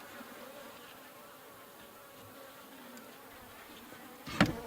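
Honeybees buzz steadily in and around a horizontal beehive, a continuous low drone under faint background noise, with a brief louder burst of buzzing close by near the end.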